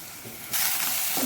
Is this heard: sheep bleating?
no